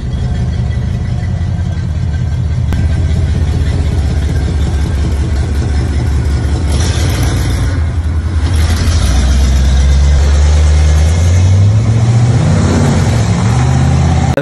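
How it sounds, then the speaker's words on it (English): A Ford Mustang with a running engine idles and then pulls away, a steady loud low engine drone that swells as the car drives off, close to the microphone with no voices. "I got a video of the Mustang and it's finally up and running and moving around"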